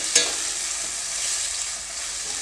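Field beans (avarekalu) fry with tomato in a hot pan, giving a loud, steady sizzle that opens with a sharp stirring scrape and then hisses on without a break.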